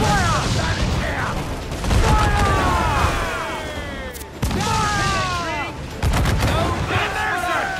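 Ship cannons boom in repeated heavy volleys during a naval battle in Assassin's Creed IV Black Flag, with rumbling impacts and whistling shots overlapping, while shouted crew voices sound beneath the barrage.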